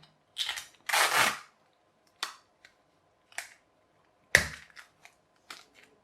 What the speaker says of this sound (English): So we're wrapping tape round there.